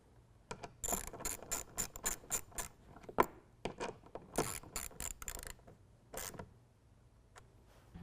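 Repeated rapid clicking of a ratchet with a 3/8 socket tightening nuts on a 2016 Chevy Colorado truck bed, close and fairly loud, coming in quick bursts with brief pauses and no speech.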